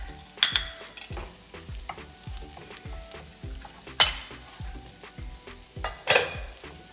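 Chicken and bok choy sizzle steadily in a hot stir-fry pan, with rhythmic clacks of a utensil stirring and scraping and a couple of sharper metallic hits, close and alone without talk.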